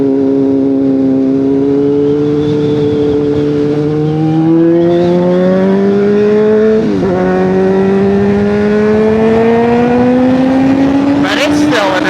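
A Honda CBR600RR sport motorcycle engine revs while riding, its loud, steady tone climbing in pitch across the run with a brief shift dip midway and wind rush throughout.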